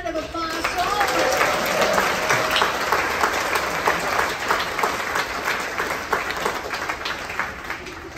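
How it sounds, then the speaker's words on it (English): A large audience at an opening-night film screening bursts into sustained applause, dense clapping filling the room at steady volume, with a few voices faintly mixed in underneath. "Let's give a big round of applause to all of you."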